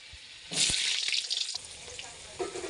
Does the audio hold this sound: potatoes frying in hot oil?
yes